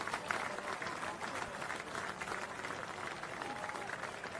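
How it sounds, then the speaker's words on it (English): A crowd at a cricket ground during a one-day international applauds a batsman, a broad, distant wash of clapping and crowd noise that stays steady throughout. "Applause around the ground for Henry Nicholls."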